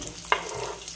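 Chopped onion, ginger and green chili fry in a pan for a masala, a soft steady sizzle with a single brief stirring clatter, close and without talk.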